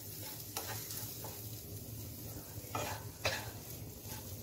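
Khichuri being stirred in a cooking pot, a steady low sizzle with a few scraping strokes of the spoon against the pot standing out, close and moderately loud with no talking.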